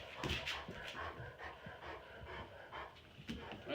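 A dog named Bo pants steadily while walking across carpet at a veterinary clinic, the quick breathy puffs close and continuous, with a faint scuffle of movement throughout.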